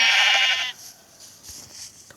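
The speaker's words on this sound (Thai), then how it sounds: "โอ้โหครับเจอแกะตัวนึง" Sheep in the Minecraft video game giving a short bleat, a loud wavering cry for about the first 0.7 seconds, then trailing into quiet background game noise.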